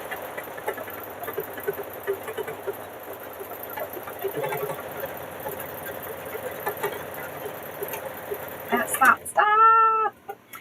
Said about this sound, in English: I'm going to go ahead and get stitching.